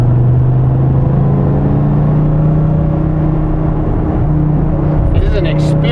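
A 2015 Dodge Viper T/A 2.0 engine holds third gear at 4000 RPM, a loud steady droning rumble heard from inside the car beneath someone talking throughout.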